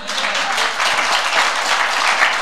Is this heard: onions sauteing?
no